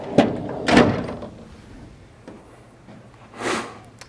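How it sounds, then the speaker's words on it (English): A paper roll drawer on an HP DesignJet XL 3800 large-format printer slides shut, giving a few short knocks and sliding bumps, with a final softer thud after a quiet pause. "you can close the drawer."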